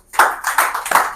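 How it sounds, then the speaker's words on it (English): Audience clapping at a fashion summit: a short, close burst of several claps in uneven rhythm, loud and with no talking. "Everybody's clapping."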